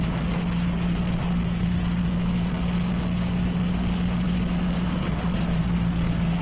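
A Triumph Rocket 3 GT triple-cylinder motorcycle engine rumbles steadily and evenly while the bike is ridden, a continuous low drone with no pauses and no talking.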